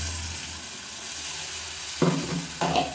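Blended tomato purée sizzles steadily in hot oil in a pan while cooking millet tomato rice, with two louder stirring scrapes near the end.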